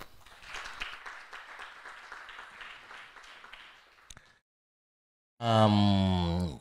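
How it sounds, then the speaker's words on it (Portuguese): A public audience at a talk on pandemic communication in Mozambique gives a moderate round of applause lasting about four seconds, followed by silence and then a loud, sustained tonal sound. "peço uma salva de palmas"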